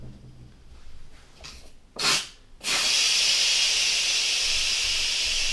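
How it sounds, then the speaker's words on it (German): After a few faint rustles and a short puff, a loud, steady hiss of steam bursts out of a pressure cooker cooking potatoes and keeps streaming to the end. "den Dampf rauslassen, weil das ist ja wie ein Schnellkochtopf"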